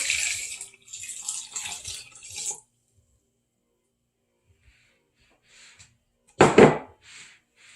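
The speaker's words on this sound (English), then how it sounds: "we're going to put 3 cups of water, cold water" Cold water splashes and pours into a soup pot for a couple of seconds, then silence, followed by a short loud splash or clunk and a brief trickle.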